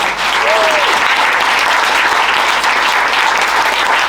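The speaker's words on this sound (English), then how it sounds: "Please give a round of applause" A conference audience breaks into loud, sustained applause that fills the room steadily, with a brief voice-like tone rising near the start beneath the clapping.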